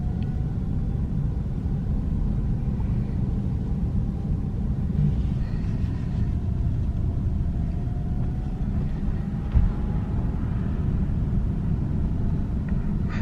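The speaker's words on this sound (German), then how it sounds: "Man hört nur die Abrollgeräusche." Steady tire roll and low road rumble from a Tesla Model S driving on fresh asphalt through Freudenstadt, a continuous broadband hum from inside the cabin with a faint high whine and no voices.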